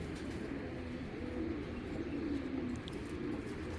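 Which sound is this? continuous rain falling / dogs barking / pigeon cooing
pigeon cooing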